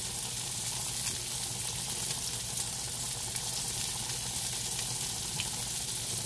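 Thin steaks for pita sandwiches sizzle steadily in a hot pan, a continuous bright crackle and hiss with no talk over it.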